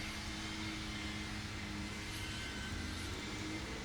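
An EMAX Babyhawk-R Pro 2.5-inch racing drone at full throttle over a field, its steady high-pitched motor whine droning on continuously at a distance.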